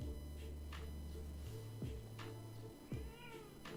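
A house cat gives a few short meows close by, three or four separate calls over a steady electrical hum in a quiet room.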